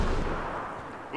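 A grenade blast and gunfire in the sci-fi shooter Mass Effect: Andromeda, set on Kadara: a loud, booming rumble that fades over about a second, with crackling shots mixed in.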